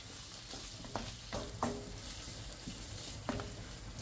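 Chicken breast sizzles quietly in a hot pan with a constant soft hiss, punctuated by occasional clinks and scrapes of a utensil stirring.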